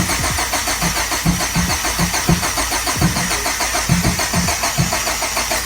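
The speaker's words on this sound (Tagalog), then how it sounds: "So they're trying to start this Honda Civic" A Honda Civic SiR fitted with a turbo engine cranks over and over, its starter churning in a steady rhythmic pulse close by, with no voices over it.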